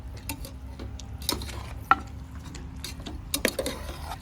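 Onion and ginger garlic paste being stirred in hot oil in a pan for a mutton dish, with a spoon scraping and clinking against the pan in irregular strokes over a low sizzle, close.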